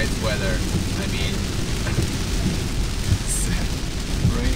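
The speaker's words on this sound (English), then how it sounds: "it's raining heavy" Heavy rain pouring down on a road trip in a Ford Mustang Mach-E, a dense, constant hiss that never lets up, with no talking.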